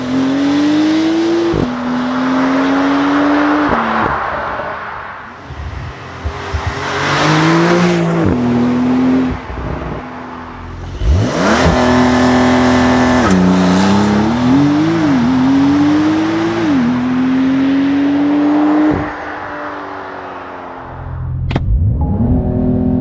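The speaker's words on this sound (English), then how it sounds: "It sounds like a GT3 almost, I would say." Porsche 992 GTS with its 480 hp engine pulling hard from inside the cabin, revs climbing loudly through several gears with brief dips at each shift, then a final surge and settle.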